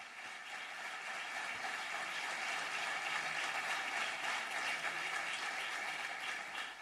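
An audience applauds donors at a hall event, a steady, fairly distant wash of many hands clapping that swells slightly midway and runs for several seconds without voices.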